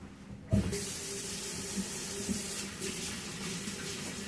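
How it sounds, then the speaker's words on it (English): Water from a tap runs into a kitchen sink for handwashing, starting abruptly with a splash, then a steady soft gush with small splashing accents as hands move under the stream, fairly quiet. "I gotta wash my hands."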